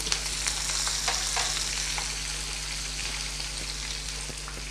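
Curry leaves crackle and sizzle in hot oil, a dense close spitting hiss with scattered sharp pops over a steady low hum, with no voices.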